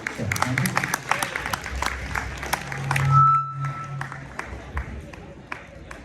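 A crowd applauds a family band after their oud, darbuka and percussion performance, a steady patter of many hands clapping at moderate distance, with a voice speaking over it partway through.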